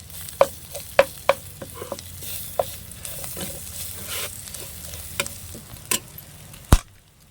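Fish pieces fry in hot oil in a village kitchen, with a steady sizzle under regular, fairly loud taps and scrapes of a spatula, with no talking.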